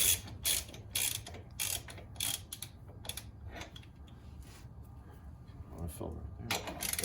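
A lug nut being tightened onto a wheel stud with a ratchet, giving a rapid run of sharp mechanical clicks in rhythmic bursts, close by, then quieter fiddling with metal parts.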